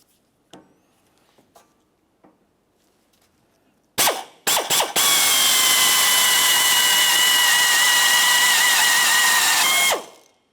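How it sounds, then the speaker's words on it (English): A power drill with a step drill bit, boring plastic adapter pieces for a 2004-2015 Nissan Titan skid plate, whines loudly and steadily for about six seconds after a few short starts, then stops abruptly. "We'll use this step drill bit."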